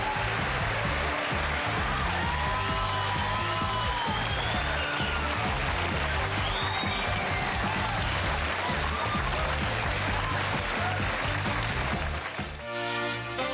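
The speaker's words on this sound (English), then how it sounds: "I'm humbled by that applause." Sustained applause from a large studio audience on a Johnny Carson talk show, steady and dense throughout, with some music or voices faintly mixed in, ending abruptly near the close.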